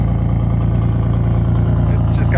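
Stock-exhaust engine of a long-neglected JDM car, still running on old oil, idles heard from behind the car, a steady throbbing rumble close by with a voice speaking over it.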